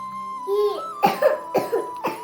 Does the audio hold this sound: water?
no